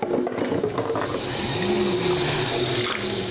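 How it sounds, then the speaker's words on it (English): Yeast and warm water pour into a measuring cup, a close, continuous splashing trickle with a faint rising tone as the liquid fills, and no talk. "I'm going to pour it right into my measuring cup"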